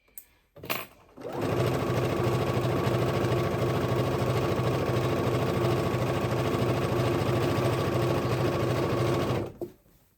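A sewing machine stitches along the raw edge of a dress, running in one continuous, steady mechanical whir for about eight seconds after a couple of brief clicks, then stopping abruptly.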